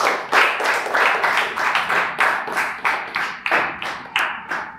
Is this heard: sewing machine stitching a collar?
no